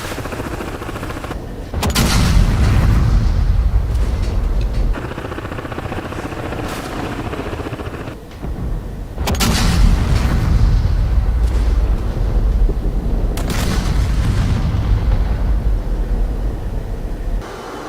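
Simulated combat in the DCS flight game as A-10 jets carry out an air strike alongside attacking helicopters: a continuous loud rotor-like roar broken by bursts of heavy gunfire and booming impacts, with no speech.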